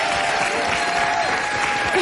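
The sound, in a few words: audience applause for a guest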